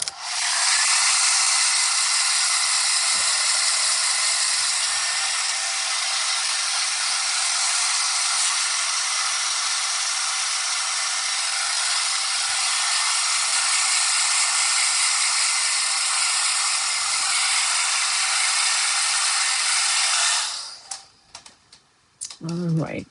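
A loud, steady rush of blown air dries a watercolor painting for about twenty seconds up close, then cuts off abruptly into light handling noises.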